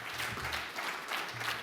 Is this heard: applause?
yes